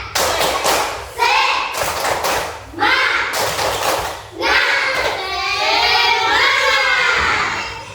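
A classroom of children performs a rhythmic ice-breaker clapping chant, loud bursts of claps in repeated patterns mixed with shouted young voices, close and energetic.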